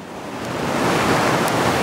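Cheakamus River rushing steadily just south of Whistler, a close, broadband wash of water that swells slightly louder and stays constant, with no voices.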